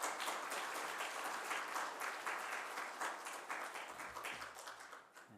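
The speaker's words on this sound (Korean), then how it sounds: "축복하며 모시겠습니다. 박수하겠습니다." Warm applause from a church congregation welcoming the pastor to a prayer seminar, a dense steady roar of many hands clapping throughout that thins slightly toward the end.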